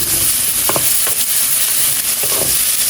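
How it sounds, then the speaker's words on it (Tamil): Two onions sauté in a pan for crab curry, with a steady, close sizzle and brief scrapes and clinks as they are stirred. "ஒரு 2 வெங்காயம் நல்லா வதக்கிக்கணும்."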